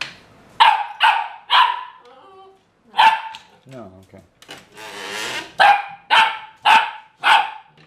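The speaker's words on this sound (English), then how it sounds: "Your bark is so loud." A puppy barks loudly in a room, sharp single barks in two bursts of three and four, with a brief whine and a person speaking in the gap between them.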